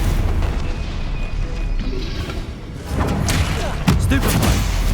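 Stupefy spells cast in the wizarding game Hogwarts Legacy during combat: sharp magical bursts and booming impacts over rumbling battle sound, with a louder hit near the end.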